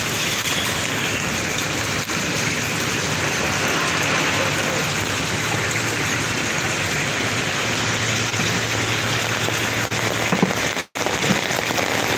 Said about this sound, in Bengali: বৃষ্টি কিন্তু অত্যাধিক